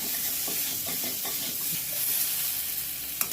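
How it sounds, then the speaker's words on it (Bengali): Taro pieces frying in a kadai, a steady close sizzle with light stirring scrapes and faint crackles. "এই যে কচুটা আমার ভাজা ভাজা হয়ে গেছে এই যে কড়াইতে একটুও লাগছে না দেখেছেন"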